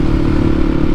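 A Yamaha WR450F dirt bike idles or runs through its exhaust, fitted with a new baffle and a wide 48 mm tip, a loud, close, deep bassy rumble held steady throughout.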